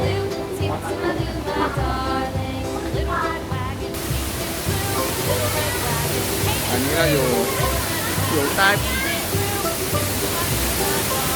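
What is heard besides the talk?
waterfall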